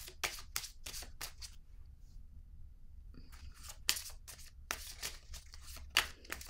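Soft papery swishes and flicks of tarot-style cards being shuffled and drawn close by, in quick bursts separated by a brief quiet gap, with no voices heard.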